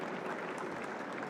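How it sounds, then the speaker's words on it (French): Applause at a logistics conference, a brief, even patter of many hands clapping at a distance, fairly soft and steady. "Sous vos applaudissements"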